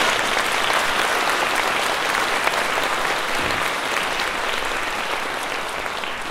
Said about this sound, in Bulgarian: Нека отново дарим нашите аплодисменти на тези млади прекрасни изпълнители.